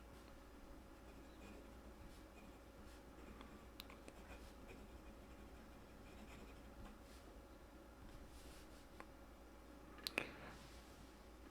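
A fine-nib Karas copper fountain pen writing on paper: faint, soft scratching strokes near the microphone over a quiet background, with a couple of sharper ticks near the end and no speech.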